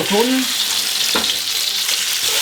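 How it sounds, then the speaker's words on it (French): Sausage and meat sear in a frying pan with a loud, steady sizzle, close up. Faint scrapes and light knocks come through as the meat is pressed and moved around. "Saucisse dans la poêle, assiette plonge, on écrase et on fait saisir la viande."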